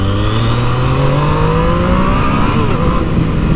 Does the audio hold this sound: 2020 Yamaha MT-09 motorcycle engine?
yes